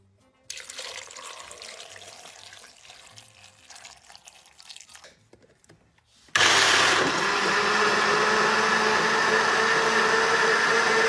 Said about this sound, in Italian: Viene il frullatore e aggiungiamo lo sciroppo.